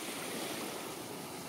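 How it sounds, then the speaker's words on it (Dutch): Soft surf washes steadily onto a quiet beach in a continuous, faint rush, with wind noise mixed in and no voices. "Weer op een strand wat lekker rustig is"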